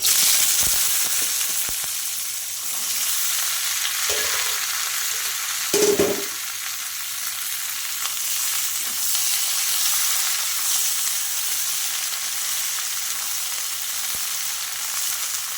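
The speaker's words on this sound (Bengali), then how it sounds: "ফোড়নটা হয়ে গেছে এখন আমি সবজিগুলো সব দিয়ে দিচ্ছি" Mixed vegetables for a vegetarian ghyat hiss and sizzle in a pan of hot tempered spices, a continuous loud frying crackle with a couple of brief stirring scrapes partway through.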